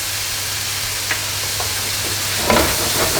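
Washed basmati rice with a pinch of salt stirred in a pan at home, giving soft scraping and a faint sizzle over a steady low hum, with a few brief louder stirs near the end.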